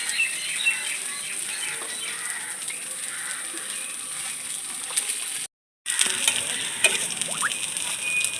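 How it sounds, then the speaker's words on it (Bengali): Semolina snacks fry in hot oil in a home kitchen, a steady close sizzle and crackle running throughout with a brief silent gap near the end, then resuming. "আরও দু মিনিট আমি ভাজাগুলো নিয়েছি"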